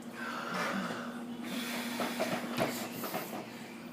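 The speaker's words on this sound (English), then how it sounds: "What is the sniffing about?" Several quick, close sniffs and snorty breaths, with soft rumbling noise in the background.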